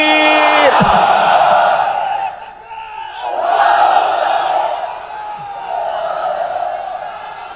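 A large crowd at a religious gathering shouts "Allahu Akbar" in unison after a takbir call, three loud swelling chants, each with a short lull between.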